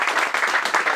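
A football team applauds itself after a match win, a short burst of close, dense clapping from a small group.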